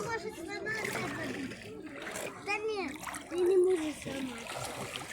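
People splash while swimming in a cold, clear lake, with water sloshing and splashing close by as children and adults talk and call out over it.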